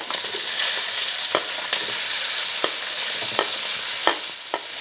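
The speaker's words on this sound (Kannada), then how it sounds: "ಇತ್ತೆ ನಮ್ಮ ನೀರುಳ್ಳಿ ಪಾಡುಗ ಫ್ರೈ ಮಂತಾರೆ" Onions frying in oil in a pan for a Mangalore-style chicken chilli, a steady loud sizzle broken by several sharp clinks of a spoon stirring against the pan.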